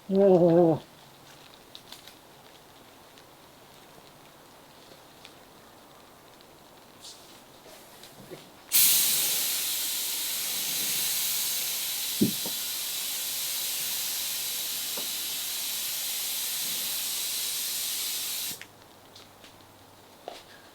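A steady, loud spray hiss runs continuously for about ten seconds, starting and stopping abruptly, as a paint spray gun lays down finish on a wooden Catalina Wherry rowing boat.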